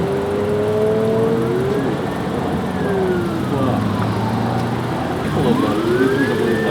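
An ambulance siren wails, rising and falling repeatedly over loud traffic and engine noise, sweeping up and down in long cycles close by.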